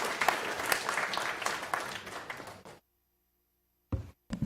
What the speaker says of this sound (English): let's get a round of applause for Trail.